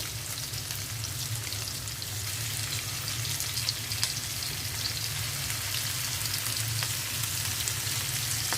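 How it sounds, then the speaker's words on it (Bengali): Shrimp frying in oil in a pan with turmeric and salt, a steady close sizzle with faint crackles and a low hum running underneath. "অল্প একটু হলুদ দিয়ে দিচ্ছি আর লবণ ভেজে নেব চিংড়ি মাছটা"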